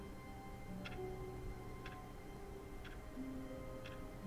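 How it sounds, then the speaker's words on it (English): A clock in the video game The Stanley Parable ticks four times at roughly one-second intervals, each tick faint and crisp against a quiet, hushed background. "Clock's back."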